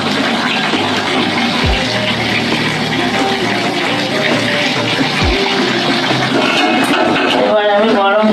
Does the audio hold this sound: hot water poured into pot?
yes